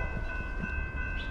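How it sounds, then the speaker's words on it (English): A Norfolk Southern freight train, an empty trash train led by a rebuilt Dash-9 locomotive, rumbles past outdoors with a steady low roar and a sustained tonal hum, continuous and fairly loud throughout. "First train of the day, Norfolk Southern."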